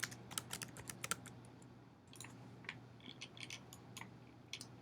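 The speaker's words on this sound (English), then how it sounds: "you can just type your name" Rapid, irregular clicking of fingers typing on a computer keyboard, close and fairly quiet, with bursts of keystrokes separated by short pauses over a low steady hum.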